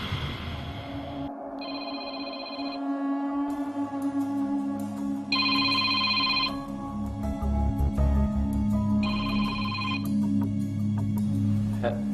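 A telephone rings in repeated electronic bursts, three distinct ringing spells with pauses between, over a steady low background hum.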